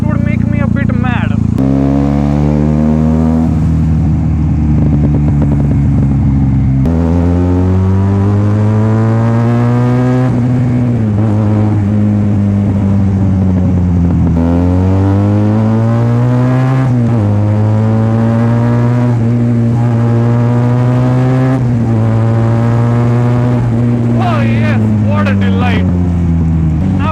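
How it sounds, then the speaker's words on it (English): A Benelli TNT 300 motorcycle ridden at night roars through its loud exhaust, rising and falling with repeated revving pulls and gear changes, continuous and close throughout. "while I like the exhaust sound, I wouldn't want to live with it on a day-to-day basis"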